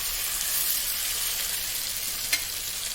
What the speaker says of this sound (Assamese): বিলাহীখিনি দি অলপ লৰাই দিছোঁ।